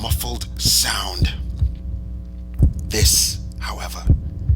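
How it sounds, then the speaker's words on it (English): A muffled heartbeat sound effect thumps low and dull under whispered, hushed narration, pulsing in irregular soft beats through a steady hum. "But for many minutes, the heart beat on,"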